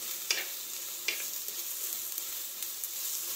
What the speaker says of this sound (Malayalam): 6 പച്ചമുളക്, 6 മുഴുവൻ മുളക്, വറ്റൽ മുളക് ഇവയിട്ട് നന്നായി വഴറ്റുക